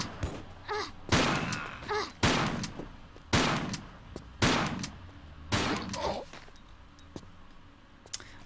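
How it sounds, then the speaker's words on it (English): Shotgun blasts boom in a Tomb Raider custom level, six or seven loud, evenly spaced shots each with a short decaying tail, alone without talk. "Let's try the shotgun, actually."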